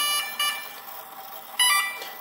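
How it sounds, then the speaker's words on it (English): Short electronic beeps from a radio-controlled model aircraft's electric motor and speed controller signalling it is armed and ready, a few quick high-pitched tones in a small cluster, fairly clear against a quiet background. "All right, we heard those beeps."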